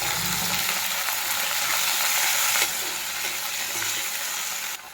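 Onions and onion leaves frying in hot oil with five-spice seeds for a fish curry with cauliflower and bamboo shoots, a steady loud hissing sizzle throughout with no talk.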